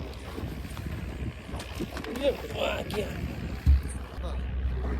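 A motorboat rides on the Narmada river at Kotna beach near Vadodara, its engine and the rushing water and wind rumbling steadily beneath people chatting aboard.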